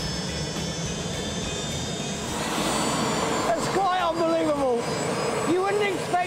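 A loud racing jet turbine engine on a motorcycle roars steadily and swells midway, with a high whine running over it.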